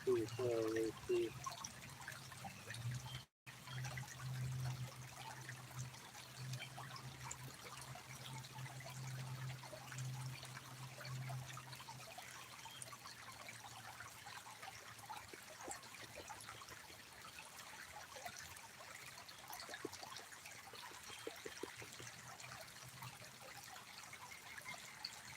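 Water trickles and washes steadily through a gold prospecting setup outdoors, a faint continuous flow with a low hum early on and people talking over it.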